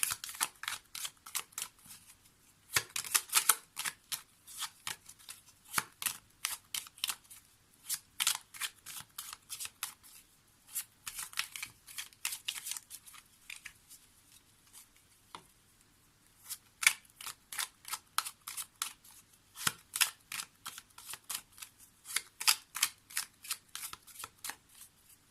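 Tarot cards for a general reading are shuffled in rapid, crisp riffling bursts, close and fairly quiet, repeating in runs with short pauses across the whole stretch and no talk.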